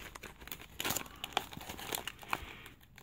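A flameless ration heater pouch from a U.S. military MRE is torn open at its notch. Close, quiet crinkling of plastic packaging comes in short bursts, with a brief ripping sound near the middle.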